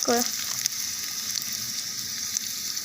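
Onions fry in oil with mustard seeds and curry leaves, giving a continuous moderate sizzling hiss after a brief tonal sound at the start.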